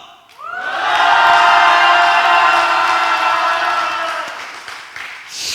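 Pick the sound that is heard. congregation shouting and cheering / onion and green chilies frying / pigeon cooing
congregation shouting and cheering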